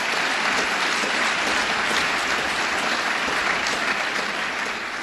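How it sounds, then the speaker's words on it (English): Sustained audience applause for three mayors at the Governor's State of the State and Budget address in Westchester, a dense, steady wash of clapping that holds loud and even throughout. "Let's give them a round of applause."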